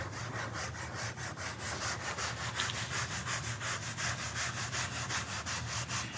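A sponge rubs dye paste onto the trim of a Mk2 Volkswagen GTI in quick, steady back-and-forth scrubbing strokes, close and fairly soft, with no voices.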